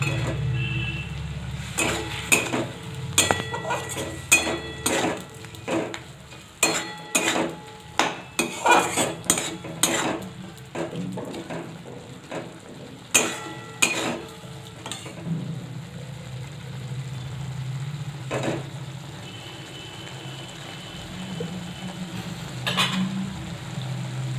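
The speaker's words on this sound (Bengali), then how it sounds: "এবার এই মশলাটা আমি কষিয়ে নেব।" Spice paste for a vegetarian banana flower curry is sautéed in a pan. A spoon repeatedly clanks and scrapes against the metal over a low sizzle, with busy rapid strokes at first, then sparser ones.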